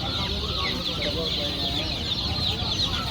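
Many chickens cluck steadily at Pallavaram Market, a dense continuous chorus from caged birds filling the whole stretch with busy market noise.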